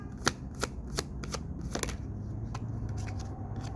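Tarot cards shuffled and handled by hand, giving a run of crisp riffling flicks and snaps, several sharp at the start, then a steady soft papery rustle close by with no talk.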